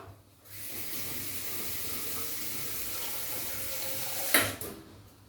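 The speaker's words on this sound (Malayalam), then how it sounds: "ഇനി നമുക്ക് ഇതിൽ കുറച്ച് വെള്ളം ആദ്യം ഒഴിച്ചു കൊടുക്കാം സാധാരണ വെള്ളം ഒഴിച്ചു കൊടുക്കാം" Plain water pours steadily into a container for about four seconds, a close, even rushing splash that ends with a brief clink and stop.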